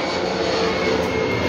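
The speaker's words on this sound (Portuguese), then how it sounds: "Avião!" Airplane engine roaring steadily throughout, a loud, continuous broadband drone heard from inside or close by during a family trip, with no talk over it.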